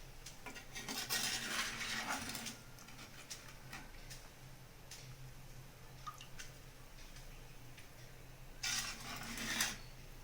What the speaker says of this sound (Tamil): அரிசி உடையாமல் நம்ம மெதுவாக கலந்து விட்டுக்கலாம்.